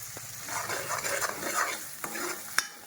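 Ghee and cumin seeds sizzle in a pan for paneer masala rice, with close, steady frying crackle under continual stirring and a sharp utensil clink near the end.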